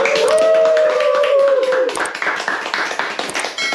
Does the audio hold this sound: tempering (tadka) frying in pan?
no